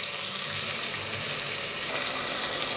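Tomatoes sautéing in a pan for fish biryani make a close, steady sizzling hiss that rises slightly toward the end.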